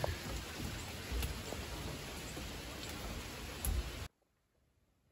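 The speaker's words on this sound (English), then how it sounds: "It's raining." Steady rain falls outdoors as a dense, even hiss with a few louder drops, continuous and fairly close for about four seconds before cutting off abruptly to near silence.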